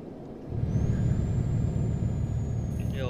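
A heavy truck in Euro Truck Simulator 2 slowing down: the low engine rumble swells after a quiet start and holds steady, while a faint whine slides across near the end.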